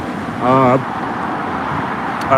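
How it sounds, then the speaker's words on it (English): Steady roadway rumble of passing cars fills the background, loud and continuous, with a brief voice cutting through near the start. "There's also a lot of noisy cars as well,"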